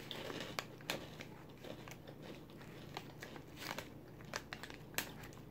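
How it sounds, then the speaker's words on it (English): Someone bites and chews crunchy Korean cracker-coated peanuts close to the mic, quiet irregular crisp cracks and crunches over several seconds. "That is so crunchy, and it's so good."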